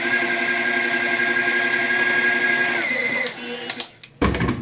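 Electric mixer whirring steadily as it mixes royal icing, a sustained motor hum with a constant pitch that winds down near the end, followed by a few clicks and knocks.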